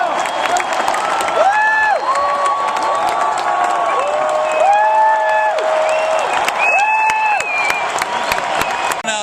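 A large crowd at a Ron Paul rally at UCLA breaks into sustained loud applause and cheering, clapping steady throughout with whistles and shouts rising above it.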